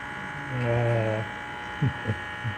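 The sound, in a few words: Lelit Mara X espresso machine pump vibrating with case off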